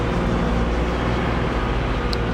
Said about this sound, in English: all I hear is engine noises